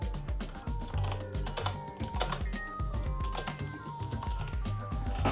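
Keys clatter on a standard USB keyboard plugged into a 2021 Xbox Series S, a quick, irregular run of close, crisp clicks carrying on without pause over a faint tonal background.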